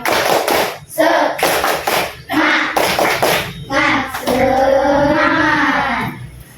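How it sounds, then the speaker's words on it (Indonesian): Elementary school children at SDN Sindangraja 3 in Cianjur perform the tepuk semangat rhythmic clapping chant, sharp grouped claps alternating with loud chanted voices in a patterned beat, ending on a drawn-out shouted call. "Agar menumbuhkan rasa semangat kita tepuk semangat ya. Tepuk semangat."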